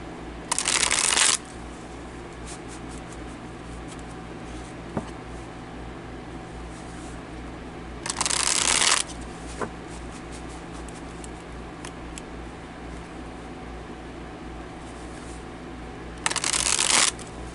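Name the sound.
shuffling a deck of cards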